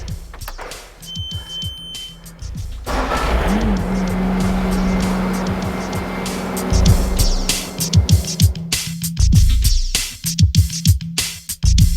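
Compact track loader running under its own power during rubber track installation, a steady low engine drone joined by rising hydraulic whine and clanking metal knocks, close by with no talk.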